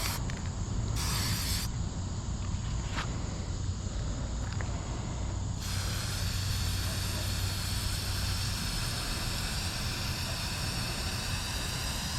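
Spray paint hisses continuously and loudly from a can as it is sprayed over a stencil for Squirtle-themed shades, holding one unbroken rush of air.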